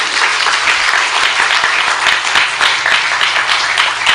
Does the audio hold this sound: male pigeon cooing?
no